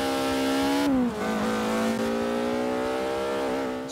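A Ford Escort MK2 RS drifting in the Forza Horizon 3 video game holds a loud, buzzing engine note close up, dipping briefly as the revs drop before settling into a steady drone.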